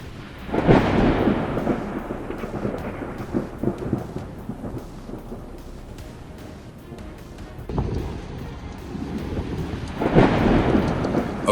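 Thunder from a lightning storm over northwest Texas, with rain, rolls in long rumbling waves that swell near the start and again toward the end, loud and close with no voices.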